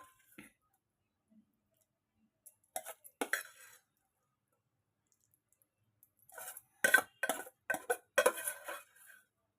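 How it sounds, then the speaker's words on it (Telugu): Bottle gourd and tomato pieces being stirred into yogurt for a pachadi: close, quiet bursts of spoon clinks and soft scraping against a bowl, with pauses of near silence between them. "ఇప్పుడు ఈ పెరుగులో కలిపేసుకుందాం"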